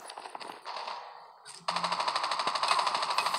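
Gunfire sounds in the mobile shooter game COD Mobile. After a quieter start, a steady, rapid train of loud shots repeats without a break, with no voices.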